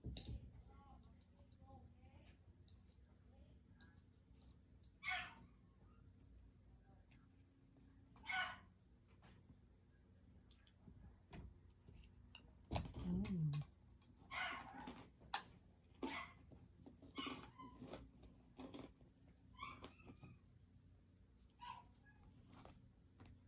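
A dog that wants to go outside barks and yips in short intermittent bursts, somewhat distant in an indoor setting, over quiet room tone.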